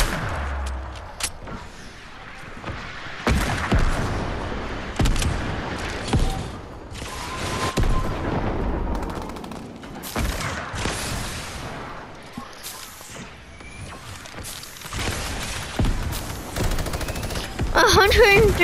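Gunfire in the video game Fortnite, scattered sharp shots and short bursts at varying distances over a shifting game background, with a person talking at times.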